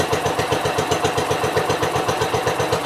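An Onan NB 430 engine on a Gravely tractor, with a leaking fuel pump, runs steadily up close, its even, rapid putter repeating throughout with no talking.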